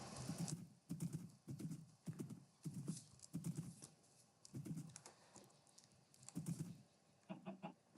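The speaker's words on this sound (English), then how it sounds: "I am almost back at base with my lovely horse Demise" Hooves of a horse being ridden in a video game clip-clop in a steady, even rhythm, moderately close and fairly quiet, with no speech over them.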